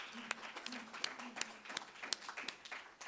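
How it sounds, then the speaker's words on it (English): Scattered applause for a business partner, fairly faint and thin, with individual claps distinctly audible in an uneven rhythm over a soft low hum. "Let's give them a round of applause."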